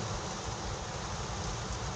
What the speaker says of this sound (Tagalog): Ang lakas ng ulan mga master.